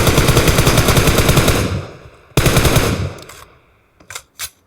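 Close-range automatic gunfire from the mobile game PUBG Mobile rattles in a rapid, loud burst, stops, fires a second shorter burst, then a couple of isolated shots trail off.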